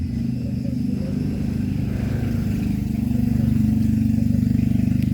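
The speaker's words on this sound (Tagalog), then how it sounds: "maingay yung motor" A motorcycle engine idles loudly nearby with a steady low throbbing rumble that grows slightly stronger toward the end.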